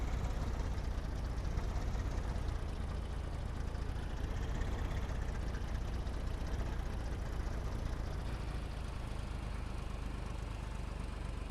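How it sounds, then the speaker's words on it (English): Steady mid-pitched engine drone of a small loading wagon in a farming video game, driven slowly over a rough road, likened to a lawnmower; continuous and fairly loud throughout, with no talk. "Listen to that lawnmower engine."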